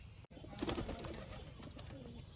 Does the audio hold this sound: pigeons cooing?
yes